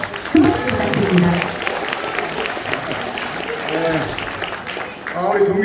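Warm applause from the audience at a People Power Party members' convention, a sustained patter of many hands clapping with crowd murmur and a voice over a loudspeaker mixed in.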